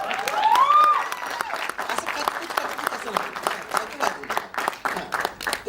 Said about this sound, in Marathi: वाजवायचं ना तर मनमोकळेपणाने नीट वाजवा टाळ्या